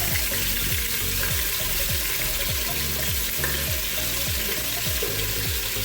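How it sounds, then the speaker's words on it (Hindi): Loud, steady sizzling of garlic-ginger paste frying in a hot pan, with rhythmic scraping of a utensil stirring underneath, no voices. "1 चम्मच लहसुन अदरक का पेस्ट ये जाएगा"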